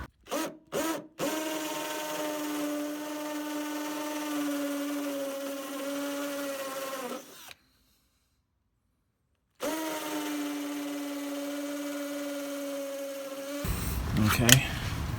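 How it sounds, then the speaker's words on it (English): A power drill bores 4mm holes for a motorhome electric step, a steady whining motor tone that runs for several seconds, stops, then starts again, ending with rougher grinding as the bit bites. "Okay, so I need to drill 6mm holes here. I'm going to start with 4mm first,"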